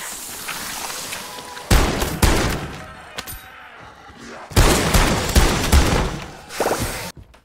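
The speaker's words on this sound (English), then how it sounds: "let's go in there with a shotgun this time" Shotgun blasts in the Modern Warfare Zombies video game, with several loud, close booming shots in two clusters over a steady background of game noise.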